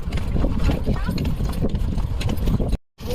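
Horse hooves clip-clop in a quick, steady rhythm during a ride near the pyramids in Egypt, close and loud with scuffs and jingles, cutting out briefly to silence near the end while people talk nearby.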